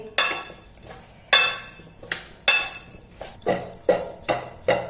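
Spoon clinks and scrapes against a pot in a steady series of sharp strikes as ground spice masala is stirred into salted pieces of traditional homemade mango pickle, close and fairly loud with no talking.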